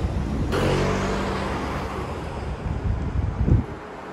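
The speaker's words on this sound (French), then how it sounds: "il y a du vent, donc je sais pas trop ce que ça va donner niveau son" Wind blows into the microphone with a low, steady rumble, swelling into rougher buffeting gusts toward the end.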